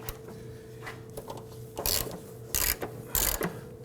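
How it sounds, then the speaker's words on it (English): Ratchet turning a 12mm socket on an extension, working a fuel tank strap bolt on a 2005-2009 Subaru Legacy 2.5L H4; faint clicking at first, then three louder bursts of rapid ratcheting close by. "Using our 12mm socket with extension and a ratchet"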